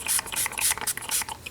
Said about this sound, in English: I'm just going to spray some of this onto my mat.